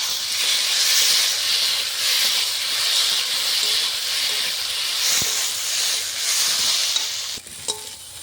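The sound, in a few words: chili paste sizzling with fried potatoes for hilsa curry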